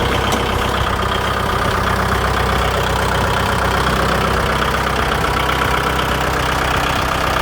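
A Kubota L5018SP tractor engine idles steadily at close range, a continuous low rumble with a faint knocking beat and no pauses or voices.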